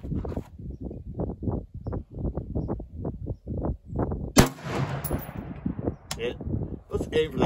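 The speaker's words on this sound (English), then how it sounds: "let's shoot at 300 again." A single sharp rifle shot fired at a target 300 yards away cracks out once midway, with someone talking steadily before it and again afterward.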